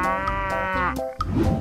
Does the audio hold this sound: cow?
yes